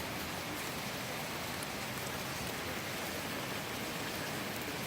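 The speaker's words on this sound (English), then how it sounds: "it's not the polite rain, it's a lot of rain." Heavy rain pours down in a dense, even hiss that stays constant throughout, close and alone with no talking.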